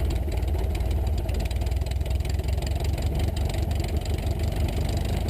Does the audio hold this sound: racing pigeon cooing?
no